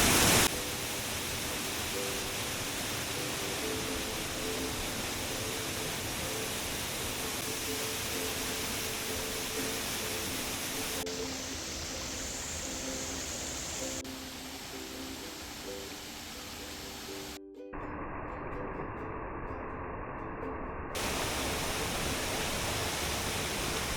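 A waterfall about 20 metres high on Vlašić mountain roars in a constant, dense rush of water, loud and close, with abrupt shifts in tone partway through.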